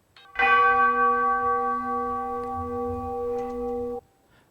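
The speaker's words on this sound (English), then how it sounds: "the final chime is a little bit bassier." A single deep, resonant low orchestral chime strikes and rings steadily for several seconds before cutting off abruptly.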